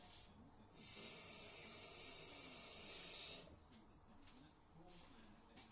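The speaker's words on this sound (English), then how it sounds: "I'm just going to add a bit of water." Water running from a tap into PVA glue for paper mache, a steady soft hiss lasting a few seconds before cutting off, quiet and close, with faint background noise.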